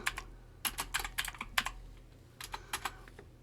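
Keystrokes on a computer keyboard while entering text in a CAD program, a quiet, uneven run of close clicks in two short bursts with a pause between, no voice.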